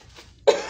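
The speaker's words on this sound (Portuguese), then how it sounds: "Essa tosse me pegou de jeito." A single short, sharp cough from an adult, close and fairly loud, bursting out after a near-silent pause and trailing off briefly.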